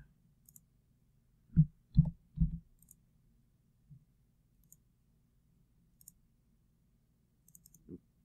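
A few quiet plastic clicks of keypad buttons being pressed, a quick cluster of three then isolated presses, close but faint in a near-silent room, with no beeps.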